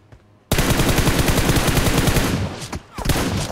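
Rapid automatic gunfire in the PUBG Mobile battle royale game, a loud sustained burst of shots that starts abruptly and rattles on for about two seconds before breaking into a few scattered shots, with no talk over it.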